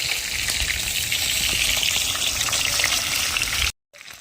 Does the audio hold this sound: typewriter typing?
no